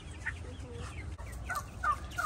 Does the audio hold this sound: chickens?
yes